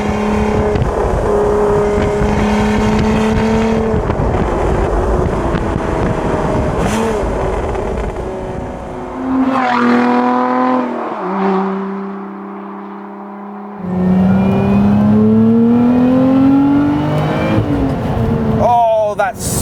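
A Lotus Emira with a supercharger accelerates on British country roads, its engine note climbing in pitch through several rising pulls with a brief lift between, loud and close throughout.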